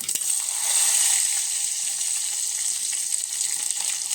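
Steady, bright sizzling of chopped garlic hitting hot oil in a pan of palya, a Kannada-style vegetable stir-fry made with ridge gourd and ghee, close and continuous with faint stirring clicks, no talk.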